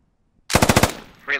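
A short, loud burst of about six rapid machine gun shots in the video game Squad, cracking close after silence, followed by a brief voice.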